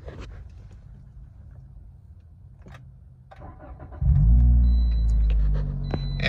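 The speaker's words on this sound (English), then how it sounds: "It does have a aftermarket exhaust, so I want to make sure that you can hear that sound" A 2018 Toyota Corolla XSE with an aftermarket exhaust cranks and starts after a quiet pause, then settles into a loud, close, deep idling rumble with a steady exhaust note.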